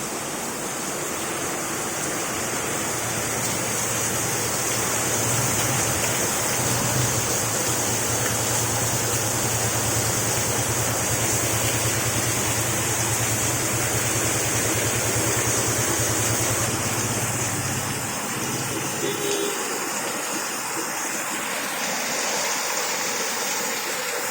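Heavy rain pours down in a steady, dense hiss that stays loud and unbroken throughout, with a low rumbling drone beneath for much of it that drops away near the end.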